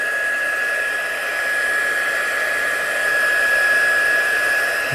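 Heat tool blowing steadily to dry mica pigment on a craft card, a continuous loud whirring hiss with a faint whine, close and unbroken for the whole stretch.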